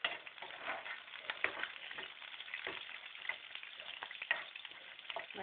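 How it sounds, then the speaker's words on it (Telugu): Thin, long-sliced onions frying in oil, giving a dense, crackling sizzle with frequent small pops and stirring scrapes. Quiet and muffled, steady from start to finish, with no speech. "ఇందులో సన్నగా పొడవుగా కట్ చేసిన ఉల్లిపాయలు కూడా వేసుకుందాం."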